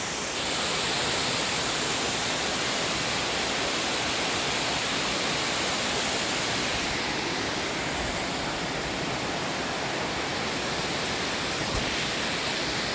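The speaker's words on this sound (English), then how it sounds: "Kampaeng Phet Province Waterfalls." Khlong Nam Lai waterfall in Kamphaeng Phet, Thailand, a dense, steady roar of falling water that stays loud and unbroken from start to finish, with no voices.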